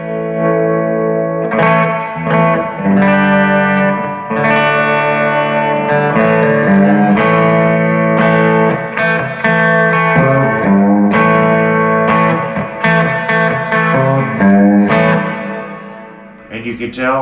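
Clean electric guitar played through the clean channel of an Egnater amp with a touch of reverb, ringing out sustained chords and melodic notes continuously, loud and close with a soft reverb tail.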